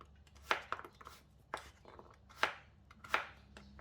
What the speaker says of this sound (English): Cut it into half and slice them to about 1/2 inch thick.